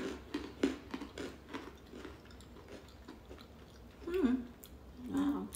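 Crunchy bites and wet chewing of a strawberry ice cream flavored snack, close and intimate, with soft mouth noises and a few louder crunches, no talk.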